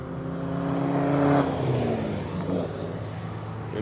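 A Peugeot 308 GTi goes flat out at Anglesey Circuit, its engine note rising and falling as it sweeps past at moderate distance, a steady mechanical roar with no speech over it.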